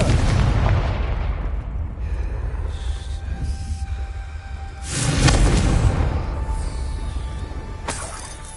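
A Confringo blasting spell explodes in Hogwarts Legacy, a loud close boom with shattering debris, then a second heavy blast and crackling bursts that fade, with no one talking.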